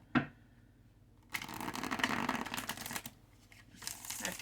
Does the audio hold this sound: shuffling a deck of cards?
yes